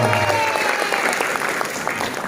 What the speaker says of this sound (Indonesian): Wih, tepuk tangan.